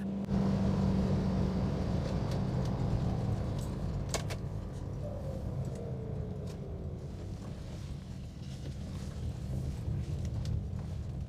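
A Triumph Stag car drives on, with a steady engine drone and road rumble throughout as it pulls through the gears, plus occasional faint rattles inside the cabin and no speech.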